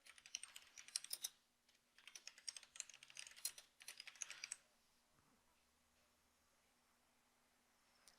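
Rapid typing on a computer keyboard while entering a report name in a database program, with bursts of quick close clicks for about four and a half seconds before the keys stop and only a faint hum remains.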